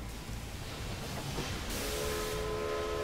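Trains pulling into a station in the Railway Empire 2 video game make a steady rolling rumble, and a tonal whistle or horn sounds near the end.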